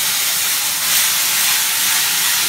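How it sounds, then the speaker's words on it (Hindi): Tomatoes and spices tipped into a pan of onions fried until brown, for a karela recipe, bursting into a loud, steady, close sizzle that fills the whole stretch without pause and with no voices. "अब ये हम जो टमाटर और मसाले रखे थे वो डालेंगे।"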